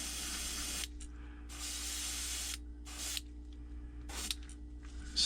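An airbrush sprays paint in a perch pattern onto a fishing lure, close hissing bursts of a second or two separated by short pauses over a steady compressor hum.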